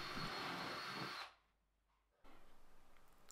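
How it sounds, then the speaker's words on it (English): A power drill with a countersink bit bores into 9mm MDF, a loud whirring burst that spins down to near quiet, then a second, softer pulsing run begins. "I drill some holes with a countersink bit along the centre line of this"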